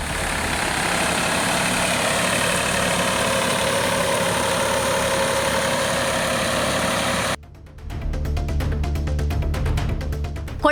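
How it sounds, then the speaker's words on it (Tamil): A tractor engine runs steadily as a farmer ploughs under a paddy crop in a Tamil Nadu field, a loud continuous rumble that cuts out briefly before revving back with rhythmic heavy thumping and vibration. "விவசாயி தனது பயிரை டிராக்டர் கொண்டு அழித்தார்"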